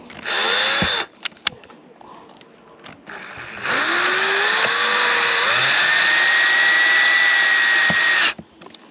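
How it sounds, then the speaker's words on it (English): Power drill boring holes in a step van during a conversion, a short whine, a pause with small clicks, then a long steady high-pitched drilling run that stops abruptly, close and loud. "Now we can drill the rest of the holes."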